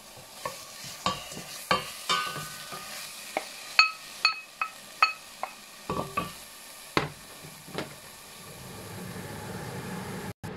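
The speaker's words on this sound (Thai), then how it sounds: "เราพริกแกงไปผัดก่อนนะคะผัดให้พริกแกงหอมก่อนค่ะ" Thai curry paste stir-fried in a pot, a soft sizzle under a rhythmic series of sharp metal spatula clanks and scrapes against the pot, close and clear, thinning to a quieter hiss at the end.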